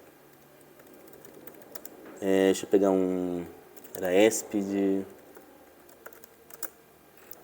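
Computer keyboard typing in short bursts of quick clicky keystrokes, close by, mixed with and partly under someone speaking Portuguese.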